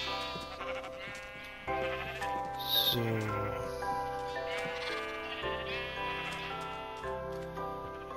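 Sheep in the game Minecraft bleat several times over a backdrop of steady game music, with someone briefly speaking.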